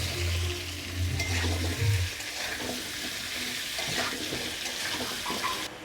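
Potatoes fry in a pan with turmeric and salt for a jackfruit and shrimp dish, a steady close sizzle with some stirring and a brief low hum at the start.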